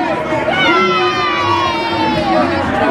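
A large crowd gathered for a concert on the esplanade of the Palais du Peuple in Guinea cheers and shouts in a loud, continuous roar with raised voices throughout.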